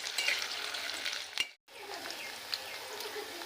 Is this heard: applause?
no